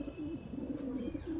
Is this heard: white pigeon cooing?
yes